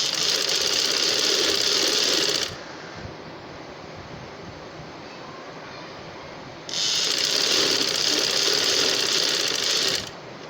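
A sewing machine stitches fabric with piping for a trouser design, running loud and steady close by for about two seconds, stopping, then whirring again in a second burst.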